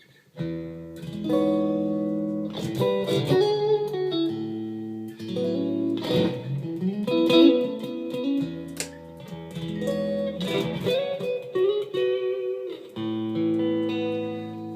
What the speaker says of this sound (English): this is just a clean tone with a bit of reverb